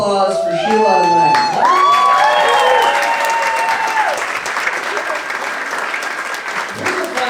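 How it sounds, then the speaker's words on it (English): A comedy club audience bursts into loud applause mixed with cheers and whoops, a dense sustained wash of clapping that slowly fades. "So how about a round of applause for Sheila and Len?"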